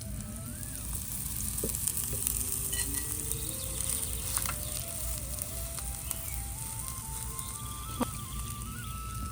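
An egg fries in a little oil, hissing with a steady, close sizzle from start to finish. A faint tinkling melody runs underneath.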